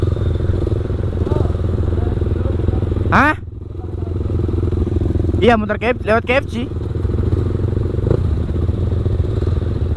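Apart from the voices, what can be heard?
motorcycles on a Sunday morning ride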